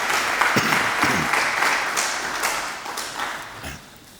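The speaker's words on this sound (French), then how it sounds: "nous demandons d'abord si on peut applaudir pour ces premiers sportifs" An audience applauds at an event for athletes at the Congolese Games, a steady dense burst of clapping that gradually fades toward the end.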